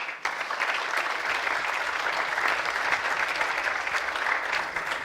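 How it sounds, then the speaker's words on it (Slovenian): Sustained audience applause at a panel discussion, a dense, steady clapping from a large crowd that holds evenly for about five seconds. "Kadar bom spustil malo glas in vas pogledal, takrat je aplavz."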